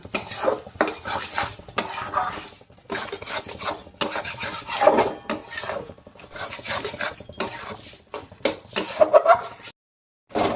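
A spoon scrapes and clinks steadily against a bowl while cauliflower paratha filling is mixed with sugar, with close rhythmic rasping strokes and a short pause near the end.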